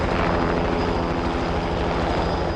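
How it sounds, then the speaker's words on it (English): A military helicopter drones steadily with a loud, thick rotor rumble that holds unchanged from start to finish. "They sent a helicopter to pick up one dying British soldier."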